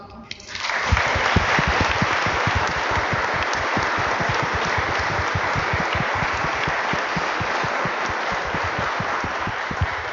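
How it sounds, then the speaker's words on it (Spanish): A church congregation at a Sunday Eucharist service applauds its grandparents. After a brief quiet moment, loud, dense clapping from many people starts abruptly and carries on steadily for nearly ten seconds. "vamos a darles un aplauso"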